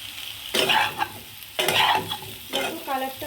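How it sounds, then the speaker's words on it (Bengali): Cauliflower and potato being stirred and fried with spices in a pan, with three bursts of sizzling and scraping separated by quieter pauses and no voice. "এবার ভালো করে মশলাটার সঙ্গে একটু কষিয়ে নেব।"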